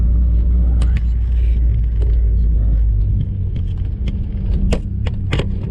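A turbocharged Mazda Miata engine at full throttle on an empty road: a loud, steady, deep rumble that fills the whole clip, with a few sharp clicks and rattles near the end.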